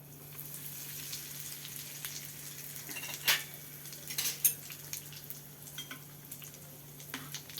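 Asafoetida goes into lukewarm oil for mango pickle, bringing a soft, steady sizzle. A few light clinks of a spoon against the pan cut through, with no talking.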